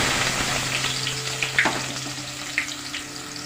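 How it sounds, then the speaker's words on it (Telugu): Thinly sliced onions hit hot oil in a pan for an egg onion masala fry, giving a loud, continuous close-up sizzle with a few light clinks and no talking. "ఈ ఉల్లిపాయలని ఈ ఆయిల్లో వేసేద్దాం."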